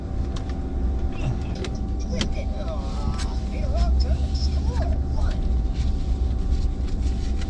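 A truck engine rumbles steadily at close range with low road noise throughout, while a person talks over it.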